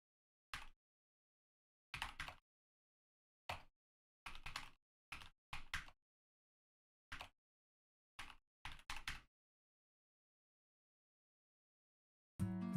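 Clusters of sharp clacks from a new computer keyboard come in short irregular bursts with silent gaps between them, quiet and close, ending in a louder clatter.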